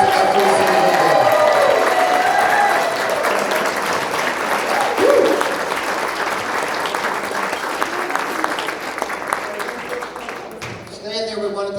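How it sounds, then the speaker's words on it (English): A large audience at a rescue parade event bursts into sustained, loud applause that fills the scene for about eleven seconds, fading slightly toward the end as a voice begins to speak. "let's give all these folks a big round of applause for all that they do for kids every single day."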